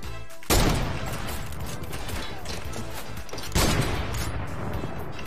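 Gunfire in a video game: a sudden loud burst of rapid shots opens a dense, sustained fusillade that keeps rattling, then a second sharp burst kicks in, with no talking.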